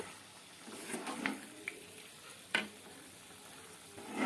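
Paneer masala fries quietly in a pan as it is stirred, giving a soft, steady sizzle broken by a few light scrapes and taps of the spoon.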